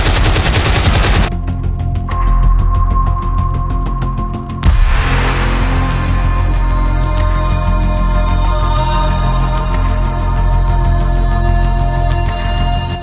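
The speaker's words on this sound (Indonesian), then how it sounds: "kota Malang dihujani bom dan tembakan militer liur oleh pesawat terbang Belanda" Gunfire and bombing from Dutch aircraft attacking the city of Malang in 1947, a loud, dense and continuous barrage of rapid shots and blasts with no pauses.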